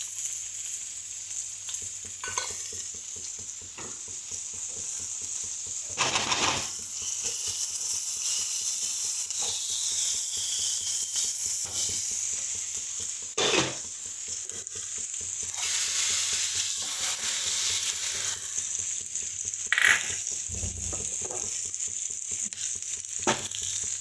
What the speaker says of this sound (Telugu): అది రసం అండి, తాల్చేద్దాం.